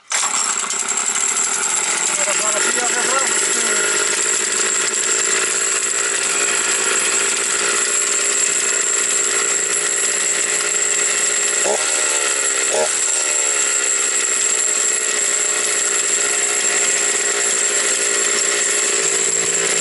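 A chainsaw engine idles on half choke while warming up, a steady close, loud buzzing drone with slightly raised revs that holds for the whole stretch, with a couple of brief uneven blips partway through.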